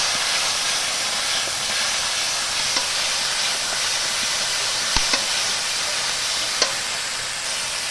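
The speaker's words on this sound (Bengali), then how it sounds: "এবার এটা আমি সুন্দর করে একটু কষিয়ে নেব।" A spice paste with salt and turmeric fries in a pan, giving a steady, close hiss and sizzle throughout with a few faint ticks and pops of cooking.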